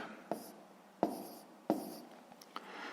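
Pen or pencil scratching out fraction numbers in a sixth-grade math exercise, several short strokes spaced through the moment, close and quiet, with no speech.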